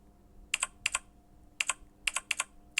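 Keys clack on a video game's virtual keyboard in short bursts of two or three presses, crisp and close, with quiet pauses between.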